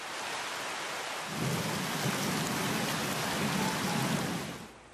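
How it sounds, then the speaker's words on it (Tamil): Heavy rain driven by strong wind roars steadily, a dense broadband wash that swells stronger after a moment and then fades at the end, with no voices. "பலத்த காற்றுடன் கனமழை பெய்ததால்"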